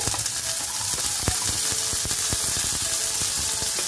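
Green chilli, shallots, green peas, corn and carrot sautéing in a hot pan, a steady sizzle with scattered sharp clicks and scrapes of a spoon stirring against the metal, close and continuous.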